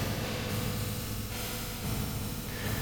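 A dense, diffuse reverb wash produced by an Airwindows plugin built on householder matrices, filling the whole range as a steady, smeared tail with no distinct attacks.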